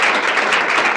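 Brief burst of audience applause at a corporate stakeholder meeting, dense and steady clapping from a room full of people.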